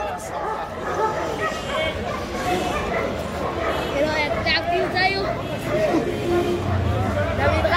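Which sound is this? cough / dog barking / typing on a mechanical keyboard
dog barking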